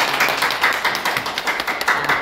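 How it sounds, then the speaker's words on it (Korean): A church audience breaks into a short burst of dense, lively clapping, close and fairly loud. "박수 한번 쳐요."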